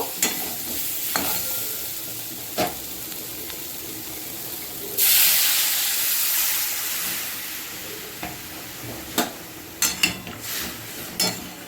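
Stirring scrapes and clicks, then a sudden loud hissing sizzle as water hits frying squash and potato in the hot pan, slowly fading to a softer simmering crackle with more stirring.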